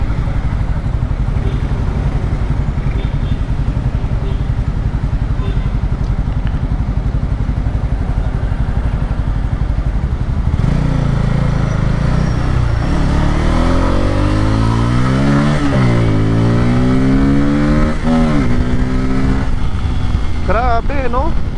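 Kawasaki Pulsar N250, a 250cc motorcycle, runs steadily while being ridden, its engine drone continuous throughout and rising slightly in the second half, with someone talking over it.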